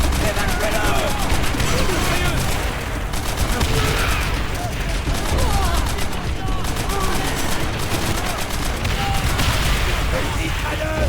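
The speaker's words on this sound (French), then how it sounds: "Mitrailleuse!" Machine gun fire and rifle shots crackle continuously in a World War II battle in Call of Duty: World at War, loud and dense throughout, with soldiers shouting over the gunfire.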